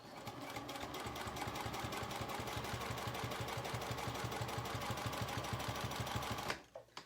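A sewing machine stitches a zipper pouch with a long stitch length, running at a steady, fast mechanical whir for several seconds before stopping with a couple of small clicks.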